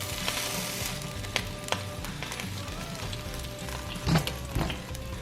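Steaks sizzle steadily in an air fryer basket as they are flipped, with a soft continuous crackle broken by a few clinks and brief louder scrapes near the end.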